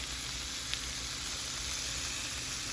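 Steak searing on its side in a hot pan, producing a loud, continuous, even sizzle with a constant hiss and no pauses.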